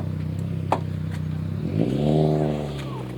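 The engine of a 1974 BMW 2002 tii with a 5-speed gearbox idles with a close, steady rumble, then revs up into a rising, harmonic-rich drone as it pulls away, with a few light clicks and clatters.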